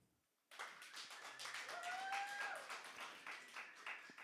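Quick, light applause from a magic show audience starts abruptly after a short silence, a soft, rapid patter of many hands that stays fairly even, with a faint tonal sound woven through the middle.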